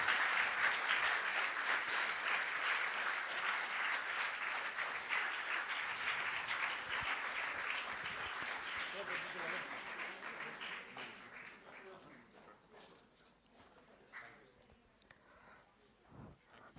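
An auditorium audience applauds at a book launch event, the dense clapping strong at first before thinning over many seconds into sparse, scattered claps and faint murmurs.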